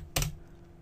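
On a computer keyboard, a single brief key tap or quick keystroke sounds close and crisp, with near silence before and after.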